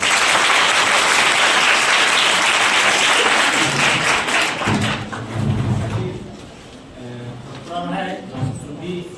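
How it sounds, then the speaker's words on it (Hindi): Loud applause greets guests at a school event in Bhojpur, a dense crowd clapping for about five seconds before fading to scattered claps, with voices talking over the tail. "जोरदार तालियों से इनका स्वागत करें"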